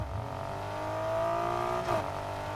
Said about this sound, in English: this R32 sounds amazing